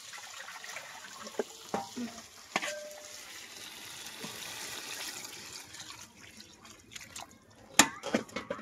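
Fish and tomato frying in a pan with potatoes and spices, a soft steady sizzle broken by scattered clinks and stirring scrapes, louder toward the end.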